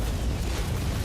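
A dense, rumbling explosion in the Warhammer 40K Inquisitor video game, a steady low roar filling the whole short moment without any talk.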